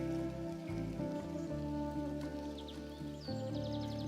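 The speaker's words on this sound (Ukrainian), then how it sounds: "Як же природа любить теплий дощ." Warm summer rain falling on garden bushes such as currant and jostaberry, a dense continuous patter of drops on leaves, close and even, with faint birdsong in the background and no talking.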